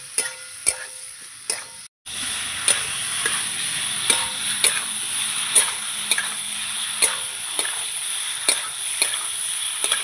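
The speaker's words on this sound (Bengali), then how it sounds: "আবার নেড়ে চেড়ে নেব। আমি একটু মশলাটা কষাবো।" Spice paste with potato and elephant foot yam sautés in a pan, a steady soft sizzle punctuated by regular sharp taps and scrapes of a spatula against the pan, close and clear.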